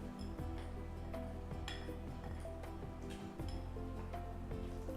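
A spoon clinks and scrapes around a bowl as a cracked egg is mixed into seasoned chicken pieces with cornflour, steady rhythmic stirring and clattering up close.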